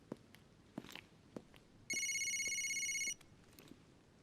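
A telephone rings once with a bright electronic trill lasting about a second, set against quiet room noise and a few soft knocks or footsteps.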